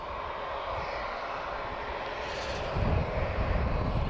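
A Ryanair Boeing 737-800 arriving from Funchal, Madeira, at Lisbon Airport gives off a steady, moderately distant jet roar. The engine noise swells a little louder toward the end.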